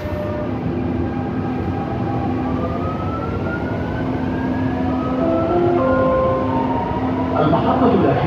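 A Dubai Metro train runs steadily inside the Gold Class cabin, a loud continuous rumble with rising whine tones of the motors as it accelerates, and a faint announcement voice under the noise.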